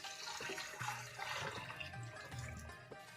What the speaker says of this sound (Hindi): और अब इसमें डालेंगे पानी, तकरीबन ये मैं 2 लीटर पानी डाल रही हूँ।